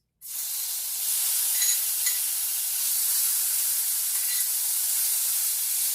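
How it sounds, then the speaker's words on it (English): Bacon renders its fat in a pan, giving a loud, continuous bright sizzle that starts suddenly and then holds steady with faint crackling pops, close up and without talk. "I'm going to render down this bacon because I want the bacon fat"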